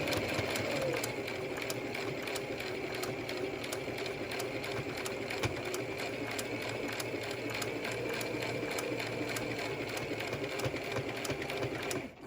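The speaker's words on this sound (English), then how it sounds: "lift your presser foot, and we're going to come back down along that edge" A sewing machine stitches along the edge of a cloth face mask, running with a fast, steady mechanical chatter up close for the whole stretch before stopping at the end.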